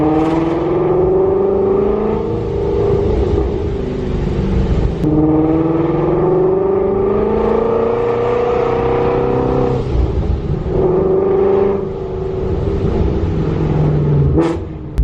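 A boosted widebody Shelby GT350 Mustang engine revs repeatedly, its pitch climbing and falling in long sweeps, loud and close with a deep rumbling exhaust.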